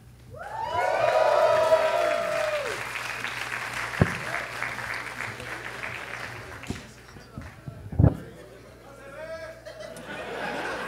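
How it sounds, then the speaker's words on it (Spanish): A comedy club audience applauds and cheers to welcome a comedian onto the stage, with laughter and chatter mixed in. The burst is loud at first, then fades under crowd murmur, with a couple of sharp knocks. "Reciban con un fuerte aplauso a María Herbert."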